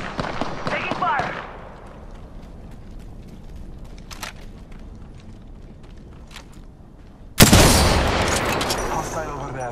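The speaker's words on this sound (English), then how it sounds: "Taking fire!" Gunfire in the battle royale game Apex Legends: scattered faint shots crackle through the middle, then a loud, dense burst of firing erupts near the end, with game voice lines in the opening seconds.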